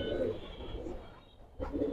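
Giribaz pigeons cooing at a pigeon sale, low soft coos repeating close by, with a short pause before another coo near the end.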